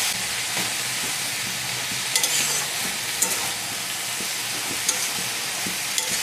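Banana flower curry fries in a pan over an outdoor fire in the jungle, a steady bright sizzle broken by occasional scrapes and clicks of stirring, with no voices.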